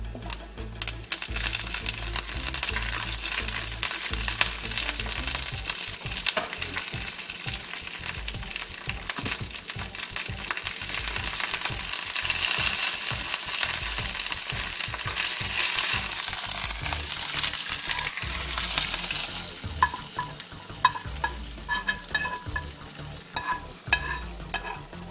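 Dried red chillies and curry leaves fry in hot oil for a Kerala roasted-coconut chicken curry, a loud, dense crackle and sizzle with constant stirring scrapes that ease slightly near the end.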